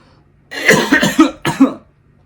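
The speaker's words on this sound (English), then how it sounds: "Clear my throat." A person coughs and clears their throat in a few sharp, close bursts, then stops.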